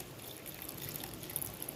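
Water is poured into a dish of tamarind for a black toor dal and suvarnagadde gravy, giving a short, soft, steady trickle with faint splashy drips and no talking.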